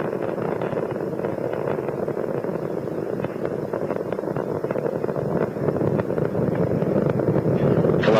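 Space shuttle Columbia's main engines roar during launch from Kennedy Space Center, a continuous heavy roar with a broad rumbling texture, steady and loud throughout, swelling slightly toward the end.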